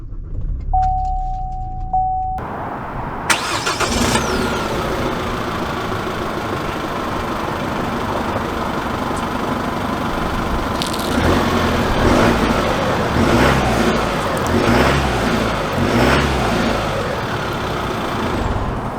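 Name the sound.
Chevy Colorado ZR2 truck engine starting and setting off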